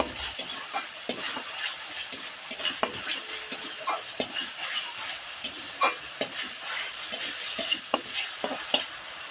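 Tomato paste fries in hot oil for a jackfruit kalia while a spoon stirs it. A steady close sizzle runs under rapid, repeated scraping strokes against the pan, with no voices.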